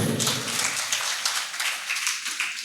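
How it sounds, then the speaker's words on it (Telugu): Congregation at a church worship service clapping loudly in a steady, rhythmic pattern of repeated claps that fill the room, with no talking over it. "చప్పట్లు కొట్టండి గట్టి."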